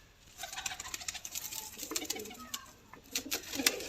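Soft pigeon cooing at a pigeon breeder's home in the background amid faint clicks and rustling, a low continuous murmur of several birds.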